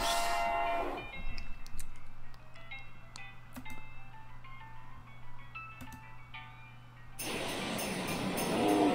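Cattle mooing inside a video game, a few low sustained calls over a steady game soundtrack hum, with brighter musical game sounds at the start and end.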